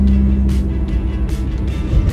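Inside a Porsche Boxster 986 from the passenger seat, a low, steady engine and road drone hums while driving, with faint intermittent rustles over the top.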